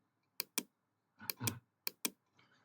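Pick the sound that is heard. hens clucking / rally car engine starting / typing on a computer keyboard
typing on a computer keyboard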